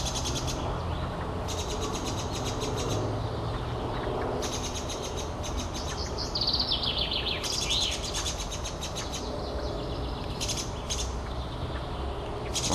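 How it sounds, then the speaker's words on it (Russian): Birds call repeatedly in a Moscow park, with bursts of sharp chirps and squawks rising over steady outdoor background noise, fairly near. "Вот как они на него кричат."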